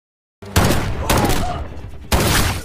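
Three sharp bursts of gunfire with a booming, cinematic quality, each shot ringing out loudly after a moment of silence.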